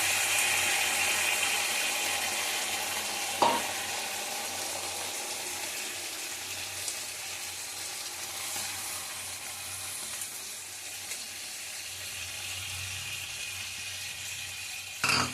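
Sauce and water added to a hot frying pan for chilli gobi, a steady low sizzle and hiss running throughout with a couple of brief clanks of a utensil, quiet and close with no voices.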